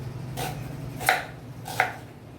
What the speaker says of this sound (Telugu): దీంట్లోనే ఒక ఆనియన్ కట్ చేసుకొని వేసుకుందాం.